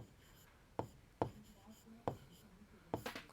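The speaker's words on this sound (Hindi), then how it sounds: "तो हम यहाँ लिख देंगे टायर।" A pen or chalk writes a word, giving a few separate, sharp scratching strokes spaced out over a few seconds against a quiet background.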